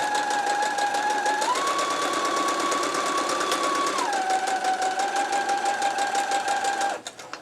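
A sewing machine stitches quilt fabric at a fast, steady rhythmic whir with a motor hum that shifts pitch slightly as speed changes, close and continuous before stopping abruptly near the end.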